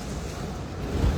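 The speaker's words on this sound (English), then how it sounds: "ooh, it's getting windy." Gusty wind rushes and rumbles across a road after a hurricane, a brief, dense roar that swells slightly toward the end, with no voices.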